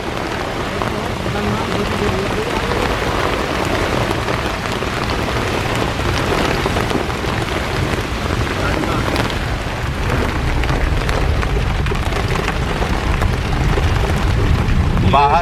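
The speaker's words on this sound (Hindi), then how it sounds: "बारिश इतनी हो रही है कि सुल्तान का गेस्ट हाउस नहीं दिख रहा है।" Heavy, steady monsoon-style downpour in Dhikala, Jim Corbett National Park, roaring without a break, dense hiss of rain pounding surfaces close by, with faint voices buried beneath.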